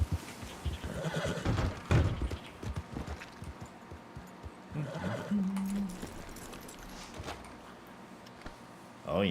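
A horse whinnies inside a role-play video game set in a Gilded Age frontier world, with hoof clip-clop and brief game sounds around it and some speech nearby.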